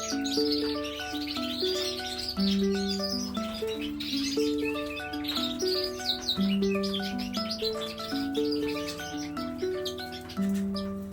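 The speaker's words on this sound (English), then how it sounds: "look how friendly my birds are" Gloster canaries in show cages chirp and warble continuously, a close, loud chorus of bright tuneful song phrases overlapping throughout with no pauses.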